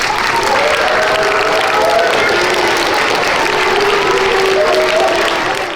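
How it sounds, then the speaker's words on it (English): Loud, sustained applause from a school assembly crowd for a mini marching band performance at a 4th–6th grade character education event. Dense clapping fills the hall throughout, with a faint voice or tones showing underneath. "give them a round of applause"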